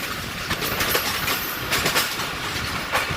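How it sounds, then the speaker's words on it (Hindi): A Karachi Circular Railway local train passes on the track nearby, with a steady loud roar and rhythmic clickety-clack of wheels over rail joints throughout. "सामने से एक और कराची सर्कुलर रेलवे की गाड़ी जो दाबेजी से होती हुई आ रही है"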